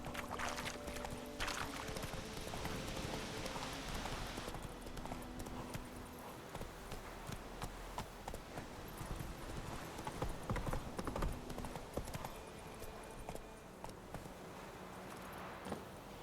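Roach, the horse in The Witcher 3, gallops in game with rapid rhythmic hoofbeats on the ground, steady and fairly close, layered over ambient game sound and a low background hum.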